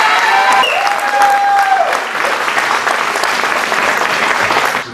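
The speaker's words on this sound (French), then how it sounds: "Je vous demande d'applaudir Loïc Larieux" Crowd applause at an end-of-year motocross club dinner in Saint-Thibéry, honoring champion rider Loïc Larieux: loud, dense clapping throughout, with a few brief tonal squeaks near the start.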